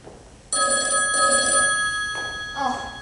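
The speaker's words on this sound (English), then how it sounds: "Don't answer that phone." A telephone bell rings steadily during a live stage performance, starting after a short quiet lead-in and carrying on loud and close with a brief dip near the end.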